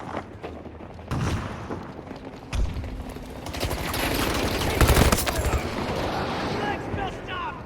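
Gunfire in the Battlefield 2042 video game, with bursts of automatic fire and heavy booms over a busy, mid-distance battle, and voices calling out between the shots.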